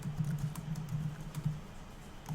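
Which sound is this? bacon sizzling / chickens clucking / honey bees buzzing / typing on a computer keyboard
typing on a computer keyboard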